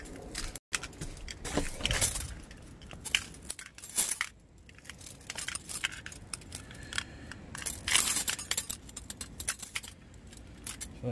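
Metal bolts for assembling a small wind turbine jangle and clink while being rummaged through, a close, continuous run of scraping metallic rattles with a brief dropout near the start.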